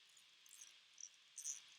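A cricket chirps by rubbing its front wings together, giving a faint, high, buzzy trill with a few brief, sharper bursts over a quiet background.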